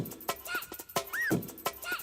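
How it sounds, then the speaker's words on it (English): Squeaky, chopped soul vocal sample pitched up and warped in Ableton using Complex Pro, with short choppy bursts and warbly, gliding tones repeating over about two seconds, fairly quiet. "you heard how squeaky it was when I put it to repitch"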